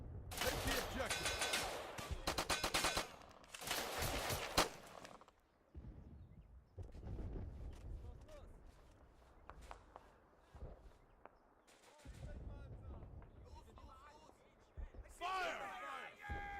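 Gunfire in the World War II shooter game Easy Red comes as loud bursts of rapid shots early on, then scattered, sparser shots and footsteps, with voices calling out commands throughout.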